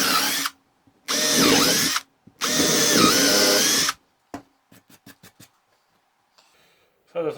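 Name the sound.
power drill drilling holes for wooden garden bench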